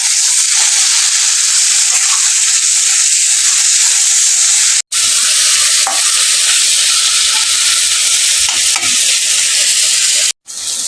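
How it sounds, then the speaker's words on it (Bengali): Taro leaves are stirred and fried with garlic in a hot pan, a loud, close, continuous sizzle with scraping stirs, broken by two brief cuts to silence. "এবার আমি কচু পাতা শাকটাকে রসুনের সাথে মিশিয়ে নেব।"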